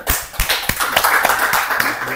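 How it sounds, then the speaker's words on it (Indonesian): A university class in Papua clapping hands together: quick, rhythmic bursts of claps from a group, close and fairly loud, in a patterned beat that repeats for about two seconds. "Tepuk tangan dulu"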